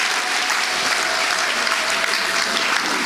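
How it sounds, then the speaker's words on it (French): A church congregation at an evangelistic gathering in Toronto breaks into steady, dense applause that fills the room, loud and continuous from start to finish without a pause. "Est-ce qu'on peut acclamer pour Jésus-Christ?"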